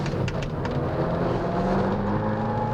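Abarth 695 Biposto engine running steadily while driving on a road, a continuous close, moderately loud drone with no talk over it.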